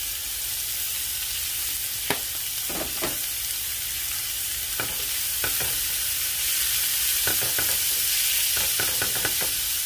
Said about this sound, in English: and just fry this up.